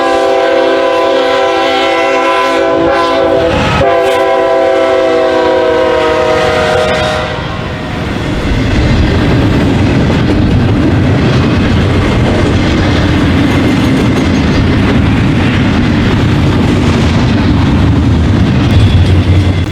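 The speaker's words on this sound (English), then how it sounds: "a southbound BNSF intermodal with BNSF 3812 on point rolled by my camera" A southbound BNSF intermodal freight train led by BNSF 3812 passes Tower 60 in Fort Worth, Texas. It opens with a loud, sustained horn, then the heavy rumble and clatter of passing cars rolls on close and loud.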